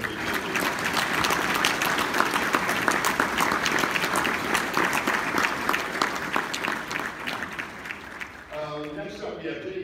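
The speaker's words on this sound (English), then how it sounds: "let's just give them a round of applause for all they do." A large audience applauds truck drivers at a 2018 NPTC awards event, producing a broad, continuous wash of clapping that holds steady for most of the stretch, then gives way to a voice speaking near the end.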